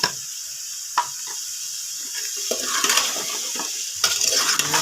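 Squash and string beans stirred in a pan while cooking coconut-milk stew, giving a few sharp clinks of a utensil against the pan and soft scraping, close and clear with no talk.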